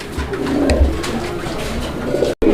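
Pigeons for sale in Bangladesh coo nearby in low, throaty murmurs over a steady background hum.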